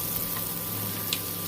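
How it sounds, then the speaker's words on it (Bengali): Potatoes fry in a pan with a steady, close hiss of sizzling oil and a faint hum beneath, with no voices. "আমরা আলুগুলো একটু ভেজে নেব"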